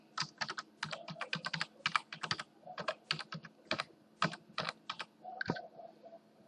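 Someone types an email address on a computer keyboard during a software install: a quick, irregular series of crisp, close key clicks in bursts, alone and fairly quiet.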